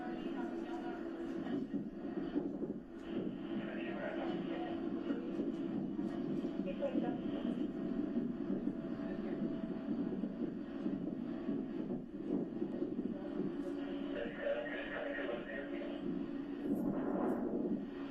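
A helicopter sets down nearby at an emergency scene in the Santa Fe area, a steady rumbling engine and rotor drone running continuously at moderate distance, with people talking over it.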